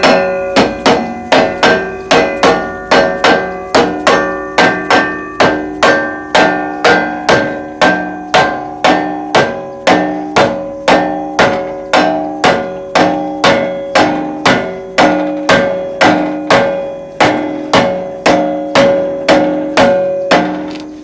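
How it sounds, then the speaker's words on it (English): A rubber mallet knocks a car bumper into place in a steady run of about forty sharp, even blows at close range, each one a dull ringing thud with no talk over it. "Just take your rubber mallet hammer."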